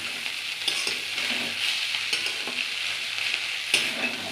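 Fresh flat beans frying in oil as they are stirred: a steady close sizzle runs throughout, broken by repeated scraping stirring strokes, with no voices.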